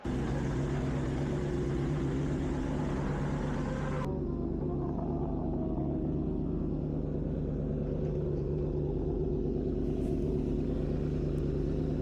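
BMW M1000RR superbike at Cadwell Park evening practice, its engine a steady low rumble heard close from on board, holding continuous before the tone drops and settles into a quieter idle-like drone.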